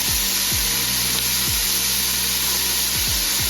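Beef short ribs sizzle and caramelize in a braising pot, a steady loud frying hiss with low thumps recurring every second or so, no voices.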